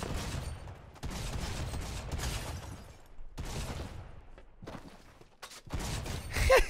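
Rapid bursts of drum shotgun blasts on auto fire in a mobile battle royale game, loud and close, in several dense volleys separated by short gaps.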